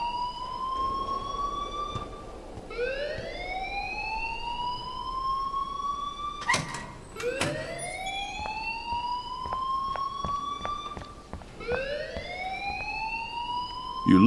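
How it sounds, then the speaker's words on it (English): An alarm in the game Life Is Strange wails in rising, siren-like sweeps that repeat every few seconds, with sharp clicks and knocks between the cycles. "please turn off that alarm since that's your job"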